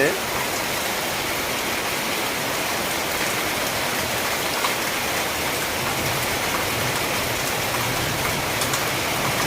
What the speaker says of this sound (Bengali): সকালটায় এত বৃষ্টি হচ্ছে